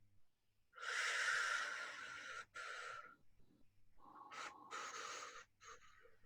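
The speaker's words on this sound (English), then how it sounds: "And I exaggerate that breathing so we know we're taking that full inhale and that full exhale." A slow, deliberately exaggerated deep breath, with a long, loud, airy full inhale followed by a breathy full exhale, heard close and alone during a guided relaxation exercise.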